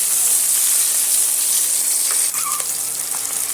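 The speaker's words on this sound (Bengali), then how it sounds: "আমি ডিমগুলো ভেজে নিচ্ছি" Eggs frying in a pan, a steady loud sizzle and hiss filling the clip, with a few faint scrapes of a spatula stirring them near the end.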